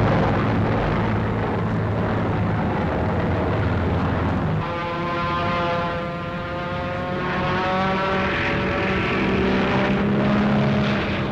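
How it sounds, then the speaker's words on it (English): P-47 Thunderbolt fighters in flight, their radial engines and propellers droning loud and steady throughout, the pitch shifting partway through as the aircraft pass. "And the Thunderbolts are on top of the attackers."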